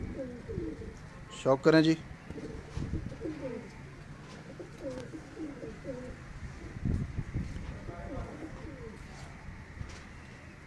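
Pigeons on a Gujranwala rooftop coo in soft repeated throaty phrases throughout, with a brief louder flutter or call early on and someone speaking briefly over them.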